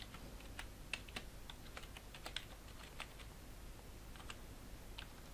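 Code being typed on a computer keyboard: soft, irregular key taps scattered across a quiet background, faint and close with no voices.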